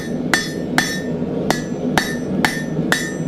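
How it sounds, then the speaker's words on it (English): Hammer blows strike a steel point on the edge of an anvil, seven sharp ringing metallic hits at a steady pace of roughly two per second, close and clear with no talk. "We're going to put a point on this, edge of the anvil as always for points."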